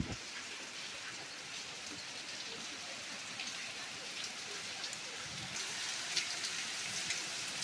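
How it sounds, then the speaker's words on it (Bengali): Heavy rain in Bolpur pours steadily outside an open window, a soft, even patter of drops on surfaces heard from indoors at low volume with no breaks. "ওই দেখো কত বৃষ্টি হচ্ছে বাইরে"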